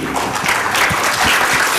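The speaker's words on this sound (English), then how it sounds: "Clap again." Audience applause at a Science vs Society debate at IICT, a short burst of dense, steady clapping from a hall crowd, fairly loud and even throughout.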